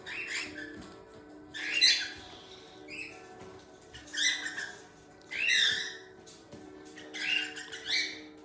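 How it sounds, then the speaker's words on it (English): Pet birds in an indoor bird room during cleaning time squawk and chirp in repeated loud bursts, close by, with quieter gaps in between. No talk is heard. "Birds coming to bug you."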